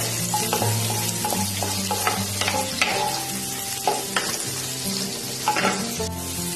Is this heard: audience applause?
no